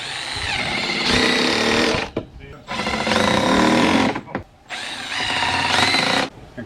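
Milwaukee M12 impact driver sinking small screws in wood, three bursts of rapid hammering rattle about two seconds each, separated by short pauses, close and loud.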